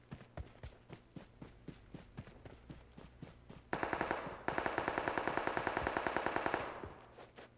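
An MG3 light machine gun fires in PUBG Mobile. Light footsteps lead into sustained rapid bursts, close and loud, that break briefly and then resume at a fast steady rhythm.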